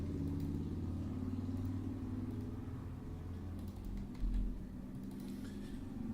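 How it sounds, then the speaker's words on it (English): A loud truck passes nearby with a deep, steady engine rumble that swells briefly near the end, heard alone with no talking. "Just as a really fucking loud truck is passing."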